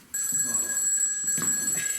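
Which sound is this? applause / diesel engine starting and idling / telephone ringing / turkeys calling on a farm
telephone ringing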